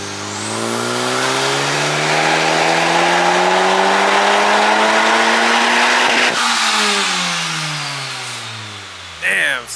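Big-turbo Honda Civic Type R FK8 engine pulling hard on a dyno, a loud rising wail that climbs steadily through the revs for several seconds, then drops and winds down with a short burst at the end.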